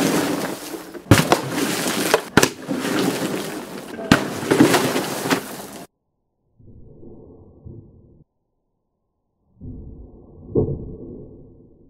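Small plastic bottles filled with a fermenting apple and yeast mixture burst outdoors in cold weather, several sharp loud pops among rushing, splashing noise, then quieter separated bursts of muffled rumble.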